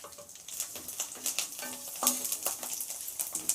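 Garlic frying with cumin seeds in hot oil, a continuous sizzle broken by repeated spoon scrapes and light clinks against the pan, moderately loud and close.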